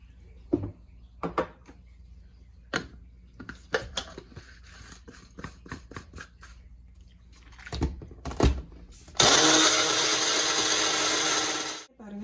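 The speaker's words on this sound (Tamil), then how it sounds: "இதை நம்ம இப்போ அரைச்சி பேஸ்ட்டாக எடுத்து வச்சுக்கலாம்" A kitchen mixer grinder whirs loudly and steadily for a few seconds as it grinds fish-fry masala with vinegar into a paste, after scattered clinks and knocks of the jar being set up.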